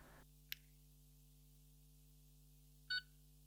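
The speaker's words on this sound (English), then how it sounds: "hold the small button and the slider button again until you hear a single confirmatory beep" Single short electronic beep from a Doctor Who 14th Doctor sonic screwdriver toy, confirming a colour change, heard clearly against a quiet steady hum, preceded by a brief faint click.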